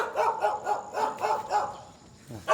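Dog barking in quick repeated bursts, several barks in a row with a steady rhythm, fairly close, followed by a brief pause and another start.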